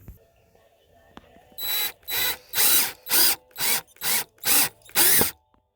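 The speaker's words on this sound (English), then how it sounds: "So we're going to drill a couple holes and screw it back together" Power drill boring holes into a broken Ford cup holder, eight loud close whirring bursts in a steady rhythm with short pauses between, preceded by faint clicks and handling.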